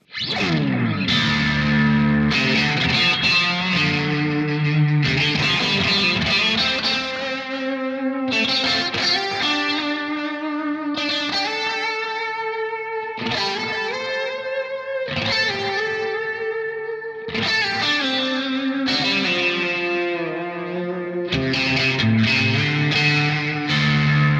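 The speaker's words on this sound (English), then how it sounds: "And now with the chorus, the delay," Electric guitar through a Victory Kraken MKII amp boosted by a Spectral Fire pedal, with shimmering chorus, echoing delay repeats and reverb in the effects loop, strummed chords ringing out loudly in a long continuous passage without any voices.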